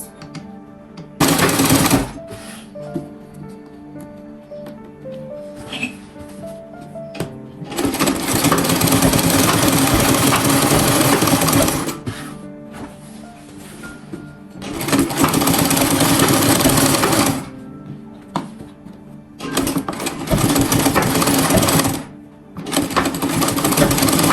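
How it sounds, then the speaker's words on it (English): A sewing machine stitches a straight shirt hem in several loud, steady runs with short pauses between bursts, fairly close and with no voices over it. "You just sew it straight."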